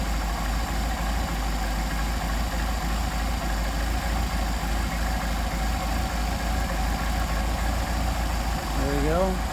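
Car engine fed by a Solex carburetor idling steadily, then its revs raised a notch to a slightly higher, even hum, close and continuous, with a brief voice near the end.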